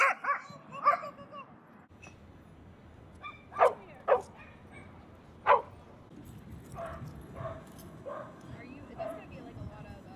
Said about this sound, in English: This is Dee. He is a pit bull husky, cattle dog, a few other things.